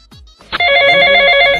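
A telephone starts ringing loudly and close by, a steady electronic trill following a couple of brief clicks.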